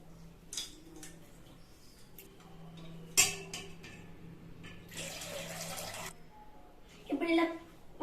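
Water pours into a bowl of rice during a second rinse in a home kitchen: a few soft splashing bursts, one longer gush, and light clinks of a bowl or utensils against a quiet background.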